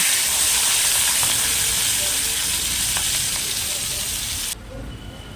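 Leaf-wrapped rui fish pieces frying in a pan give a loud, dense, steady sizzle and hiss that cuts off abruptly near the end, leaving a quieter background.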